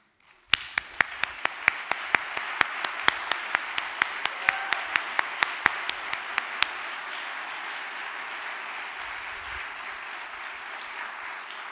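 An audience at a museum talk breaks into sustained applause, sharp individual claps standing out at first before blending into a steady wash, fairly close and then continuing alone.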